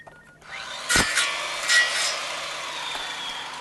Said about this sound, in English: Saw.